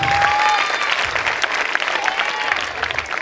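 An audience at a community gathering applauds: a close, dense round of clapping that stays strong and steady throughout, with a faint whistle-like tone mixed in.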